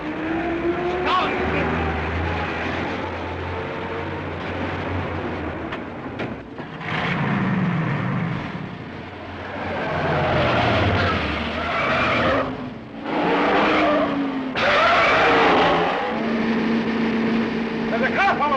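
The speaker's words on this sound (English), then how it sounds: "There's a car following us!" Tires squeal and skid in a car chase from a 1938 film, with roaring engines rising and falling as vehicles pass and shouting voices breaking in over the noise.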